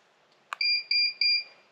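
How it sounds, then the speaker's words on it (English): A click and then three short electronic beeps in an even rhythm from an adjustable bed's control box, clear and close, with nothing else around them. "listen for the audible beep"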